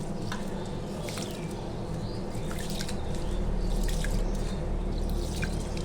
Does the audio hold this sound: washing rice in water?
yes